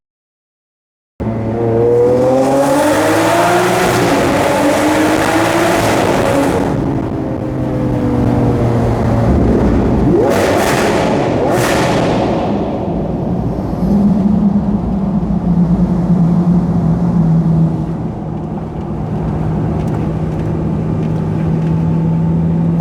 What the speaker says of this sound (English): that exhaust is unbelievably loud